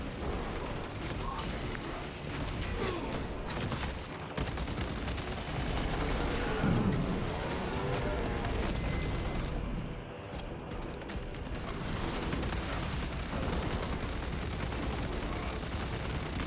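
Rapid bolt carbine fire in the video game Space Marine 2, a dense, continuous stream of loud shots and impacts with game effects layered over it.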